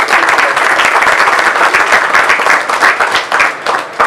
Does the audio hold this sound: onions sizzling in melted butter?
no